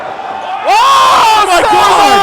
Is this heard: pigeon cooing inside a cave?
no